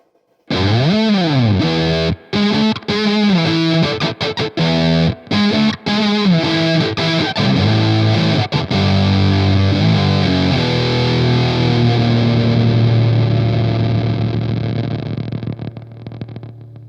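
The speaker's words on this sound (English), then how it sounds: "That's one of my favorite fuzz tones ever." Electric guitar through a silicon fuzz distortion pedal in fat mode plays loud, thick, saturated chords and riffs with choppy stops early on, then sustains a long ringing note that slowly fades.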